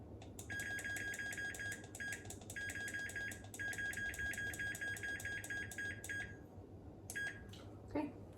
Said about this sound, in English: The timer's gone off, so it's time to check on the food.